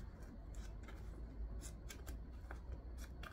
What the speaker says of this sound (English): Trim them down.